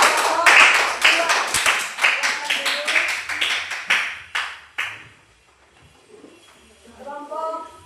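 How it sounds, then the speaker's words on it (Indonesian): Classroom applause for a group of fourth-grade elementary students: a burst of many hands clapping rapidly and loudly for several seconds, then fading out, followed by a short spoken phrase. "Ya, berikan tepuk tangan."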